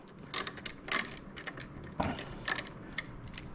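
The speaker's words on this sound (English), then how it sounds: "We're going to take these 2 screws out." Screws being backed out of the handlebars on a 2024 Harley-Davidson Road Glide, heard as faint, close mechanical clicks and ratcheting ticks in irregular short bursts.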